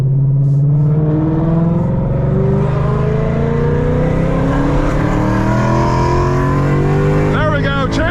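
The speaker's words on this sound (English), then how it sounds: "Listen to the rev matching." A Ford Mustang Dark Horse with long tube headers blips its throttle for rev matching, the loud, raspy V8 exhaust rising and falling in pitch through gear changes. The note stays close, continuous and dominant throughout.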